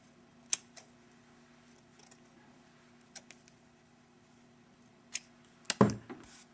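Quiet, sparse snips of scissors trimming crochet yarn ends, a few light clicks spread out, then a louder cluster of cuts near the end, heard alone without speech.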